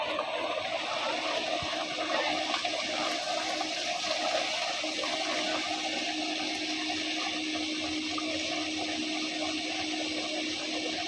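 Water gushing steadily from a solar-powered tube well pump into a dirt pit, a continuous broadband rush holding level throughout without pause, close by and fairly loud.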